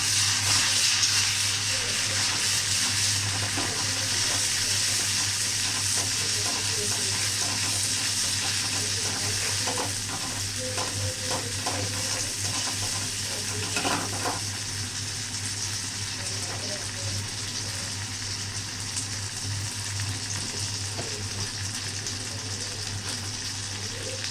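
Chicken fries in a pan while being stirred, giving a steady hissing sizzle over a constant low hum, with occasional scraping knocks from the stirring around the middle.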